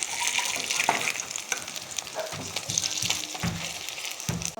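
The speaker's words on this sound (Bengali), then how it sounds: "সবগুলো উল্টে দিয়েছি, তো আর এক পিঠও ভালো সুন্দর করে লাল লাল করে ভাজা করে নেব।" Prawn fritters frying in hot oil, a bright crackling sizzle that runs throughout, with intermittent stirring and turning scrapes and soft clunks close by.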